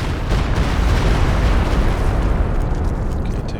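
Stuka walking rockets slam into a mortar pit in Company of Heroes 2, a dense, continuous rumbling barrage of overlapping blasts that stays loud throughout with no talking.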